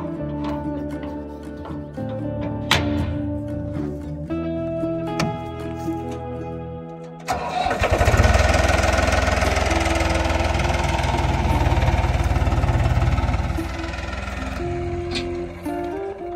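A digging machine's engine turns over and catches about seven seconds in, then settles into a loud, rumbling idle for several seconds before easing off; earlier, quieter mechanical tones and clanks precede the start.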